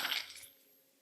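A phone knocked from someone's hand and stepped on lands with a single sharp, bright clatter that dies away within half a second, alone and fairly close.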